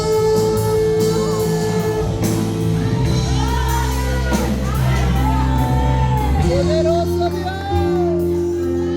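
A church congregation screams and shouts loudly toward the heavens, a dense continuous mass of raised voices and whoops with a loud voice leading over the crowd.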